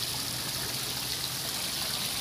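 Water spouts from a dragon fountain in a lotus garden at Hammer Hill Park, Diamond Hill, Hong Kong, giving a steady, faint splashing rush with no break.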